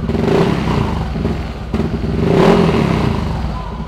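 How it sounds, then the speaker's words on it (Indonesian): A Yamaha motorcycle engine revved hard, its loud mid-pitched roar swelling, dipping briefly and climbing again to high RPM, close by with a faint mechanical clatter underneath. "kalau udah RPM tinggi, suara mesinnya keluar banget"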